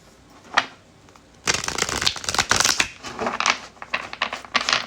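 Cards being shuffled: a brief flick, then a burst of rapid riffling and papery slaps in uneven bursts, close and fairly loud.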